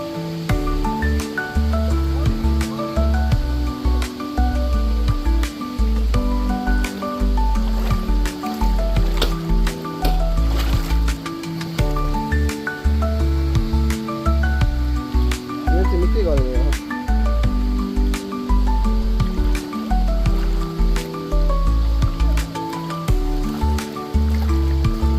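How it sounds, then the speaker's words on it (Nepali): A stream near Hoopii Waterfalls on Kauai, Hawaii, gives a steady rush and splash of flowing water over rocks, running continuously beneath people talking nearby. "झर्ना चाहिँ यो खोला बगेर गएर तल त्यहाँदेखि झर्छ"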